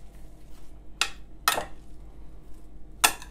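Cauliflower and chickpeas are tossed with salt in a dish, giving three short scraping clatters of a utensil against the dish over a quiet background.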